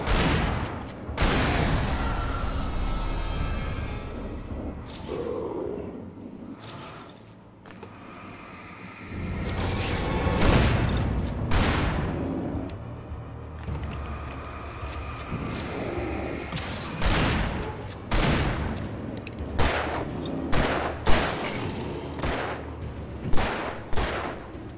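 Sustained gunfire in the game Alan Wake Remastered: rapid, repeated shots crackle and boom one after another over a low rumble, loud and close, with sharper bursts toward the end and no talking.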